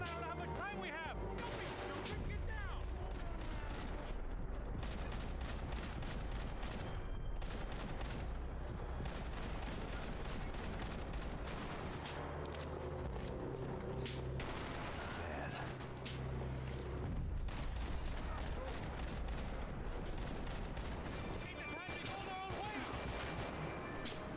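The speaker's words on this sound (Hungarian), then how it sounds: "félautomata shotgunnal 50 méterről lövöldözni" Semi-automatic shotgun gunfire in the shooter game Max Payne 3 rattles as dense, rapid volleys of loud blasts that continue almost without pause, with brief lulls.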